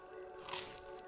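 A wet squishing bite as a character eats roasted insects in the survival game Grounded, one soft burst near the middle over a steady game ambience hum.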